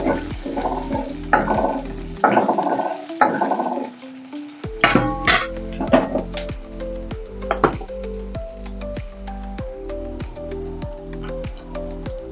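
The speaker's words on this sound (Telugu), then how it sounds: "వెల్లిపాయలు దోరగా వేగాలి." Garlic fries in oil until golden, a close, sputtering sizzle with scraping stirs early on, then rhythmic ticking and popping.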